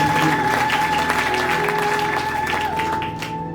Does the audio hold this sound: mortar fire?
no